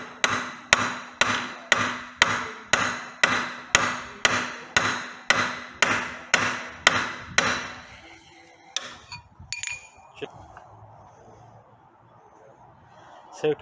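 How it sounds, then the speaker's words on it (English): Hammer striking a pickle fork to free the speed ring from a Honda K20 differential, a steady series of about fifteen sharp metallic blows at even rhythm, close and loud, followed by a few scattered clanks and quiet handling. "I've got this pickle fork and a hammer"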